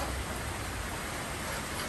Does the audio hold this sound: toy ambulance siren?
no